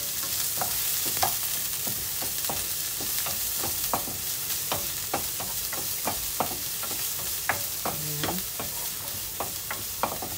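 Onion sizzling in a hot pan for lugaw (arroz caldo), a steady frying hiss broken by regular scraping stirs and clinks of a utensil, close and even throughout with no talk.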